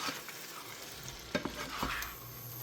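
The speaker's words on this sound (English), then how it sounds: "See where we're at with the shrimp. And shrimp cooks pretty fast here." Shrimp sizzle and fry in a pan with creamy pasta ingredients, a steady crackling hiss punctuated by a few scraping stirs and clinks, close and moderately loud.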